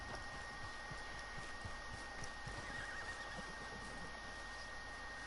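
A horse whinnies in the video game Red Dead Redemption 2 over a constant roaring, hissing background, fairly faint and partly buried in the noise, with no speech.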